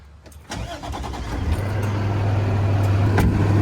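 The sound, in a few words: Tiffin Allegro Bay Super C motorhome engine starting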